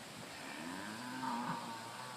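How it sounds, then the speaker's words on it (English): Local grass-fed cows lowing in a field, a sustained mid-distance moo with a rising and falling pitch over steady outdoor background noise. "So we've got some cows here, some local cows."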